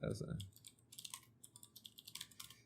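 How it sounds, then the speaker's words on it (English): Someone types on a computer keyboard with rapid, uneven clicks and clacks close by. A voice is heard briefly at the start, then the keystrokes continue alone. "the ASMR keyboard"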